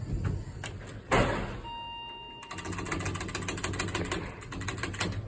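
Elevator doors at Plano East Senior High School slide with a soft thump, then a steady mechanical whirring and rattling hum continues up close as the car moves.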